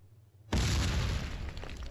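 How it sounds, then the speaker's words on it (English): A scatter grenade detonates in the Killzone shooter, one loud, sudden blast after a brief quiet lead-in, its broad roar sustaining and slowly thinning over the next second and a half with no talk. "Scatter grenade!"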